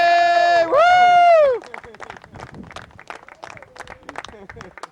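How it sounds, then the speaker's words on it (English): A crowd bursts into loud, sustained cheering and applause for a freestyle RC pilot at a model aircraft nationals event, with whoops and shouts over the top. The roar then drops to scattered clapping and babble. "Great big applause for Brian Lucken"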